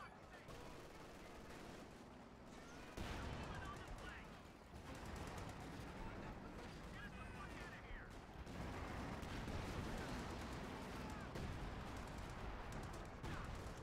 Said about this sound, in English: Watch out, that major artillery.